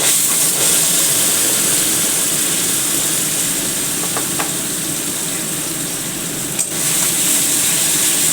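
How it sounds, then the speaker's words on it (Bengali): Bottle gourd peel paste frying in hot oil in a pan, a loud continuous hiss that holds steady throughout, with a couple of faint clicks, no talking. "এবার আমি এই লাউয়ের খোসার পেস্টটা এতে দিয়ে দেবো।"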